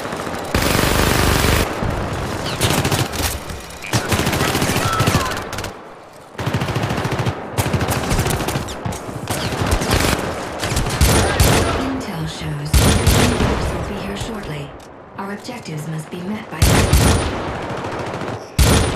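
Minigun fire in the Syndicate co-op video game near a landed enemy dropship, loud sustained bursts of rapid gunfire broken by brief pauses, with booms and other combat effects mixed in.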